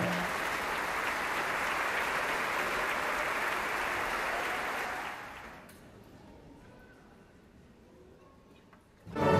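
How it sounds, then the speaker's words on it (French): Audience applause at a humanitarian student concert, a dense steady clapping from a large crowd that holds for about five seconds, then fades out into a quiet room. "J'ai bien aimé quand j'ai entendu tous ces applaudissements."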